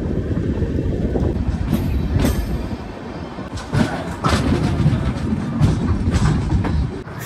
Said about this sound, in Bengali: আমাদের ট্রেন 1:03 লেটে চলছে